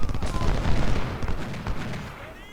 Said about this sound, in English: And enemy artillery is opening up.